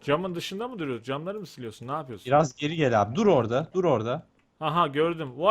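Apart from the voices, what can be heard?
None of the usual background noises is heard.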